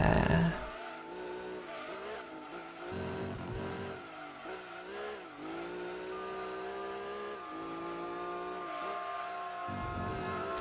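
Race cars in the GT2 racing video game during an endurance race, engines revving loud and continuous with tires squealing through corners, no voices.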